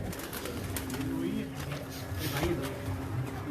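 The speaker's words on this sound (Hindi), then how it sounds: "ये नाहिद भाई के तालिबान कबूतर है" Soft, low cooing from Taliban breed pigeons in a loft, heard at a moderate distance under someone talking and steady background noise.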